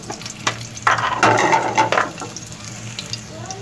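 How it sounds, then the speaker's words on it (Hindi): Ginger-garlic paste dropped into lightly heated oil sizzles and spatters in a short burst, with some stirring noise close by against a low background hum. "ऑयल गर्म हो चुका है हल्का सा। अब हम इसमें डाल लेंगे अदरक लहसुन 1 टेबलस्पून"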